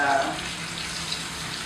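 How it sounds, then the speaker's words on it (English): Fishballs frying in hot oil give a steady, fairly quiet hiss and crackle that runs the whole time, with a brief burst of voice at the start. "So we're just finishing it really in the oil"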